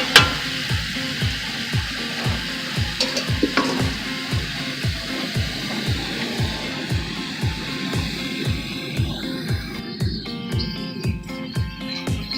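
Oxtail sears in a hot pan for Jamaican oxtail, a steady broadband sizzle running throughout, with faint chirpy crackles on top and a low repeating pulse underneath.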